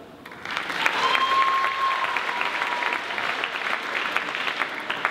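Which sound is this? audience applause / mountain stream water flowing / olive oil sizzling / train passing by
audience applause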